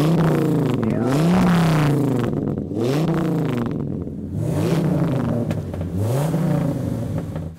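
A used car's exhaust roars through two open pipes with no mufflers, loud and close, rising and falling in repeated revving swells with a deep rumbling burble.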